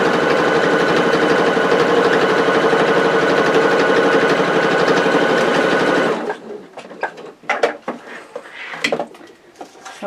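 A sewing machine runs steadily for about six seconds, stitching a tote bag across a bulky nylon coil zip, then stops and gives way to scattered handling clicks and light movement.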